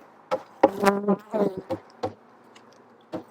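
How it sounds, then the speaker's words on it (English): Honey bees buzz at a late-season beehive with a thin population, fitted with an insulated inner cover. Several short, irregular buzzing bursts sound close by, with quiet gaps between them. "there's bees there"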